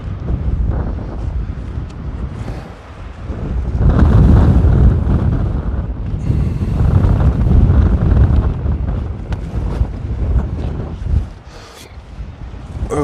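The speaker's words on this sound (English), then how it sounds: "it's extraordinarily windy today" Strong, gusty wind buffeting the microphone in an exposed high spot, a loud continuous roar that swells and eases in waves, with no talking.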